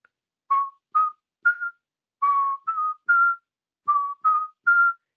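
Solo whistling in a series of nine short, clean notes articulated with glottal stops, each tone cut off sharply by the throat, grouped in small phrases with brief silences between, close and moderately loud with no talking.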